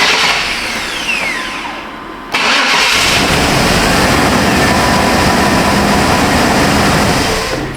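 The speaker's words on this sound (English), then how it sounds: "The truck should start and run now" A GM truck with a no-start fault cranks with a loud, rough whir for about two seconds, then catches and settles into a steady, close, droning idle.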